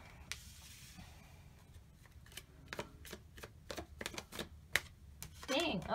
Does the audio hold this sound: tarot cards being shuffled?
yes